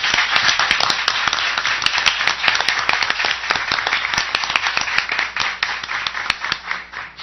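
An audience at a public hearing in the Belo Horizonte city council gives the staff a round of applause: steady, brisk hand clapping that carries on unbroken from start to finish.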